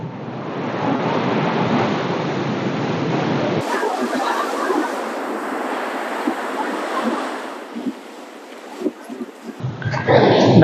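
Sea waves crash on rocks at Mullaitivu, roaring and washing in a steady broadband rush with gusty wind, easing slightly before stronger bursts near the end.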